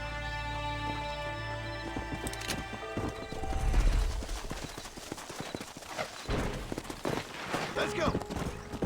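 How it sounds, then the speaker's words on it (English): Horse galloping in Red Dead Redemption, rapid hoofbeat clip-clop with a neigh, over game music and ambient effects, with speech interjected. "Cavalo."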